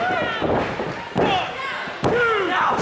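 A wrestler is slammed down onto the ring at a New England wrestling event, making a heavy booming thud and a second impact moments later, loud and close, with excited commentary running over it.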